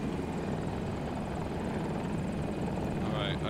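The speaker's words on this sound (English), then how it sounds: "I got a chopper." A helicopter in Battlefield 2042 thrums with a dense, steady rotor and engine roar, loud and close, with a voice faintly under the noise.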